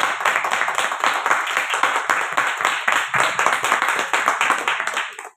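Applause at an art exhibition opening: steady, close clapping from a small gathering, a continuous rapid patter of hands that holds evenly for several seconds and then stops abruptly.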